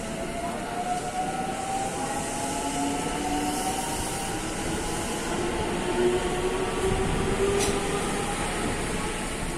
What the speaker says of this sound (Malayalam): ഞങ്ങൾ വന്ന ട്രെയിൻ പോയി